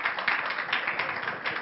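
Seminar audience applauding, a continuous, moderately loud patter of many hands clapping at once, steady throughout with no voices over it.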